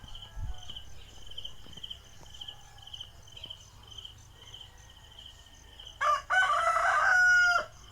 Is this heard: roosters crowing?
yes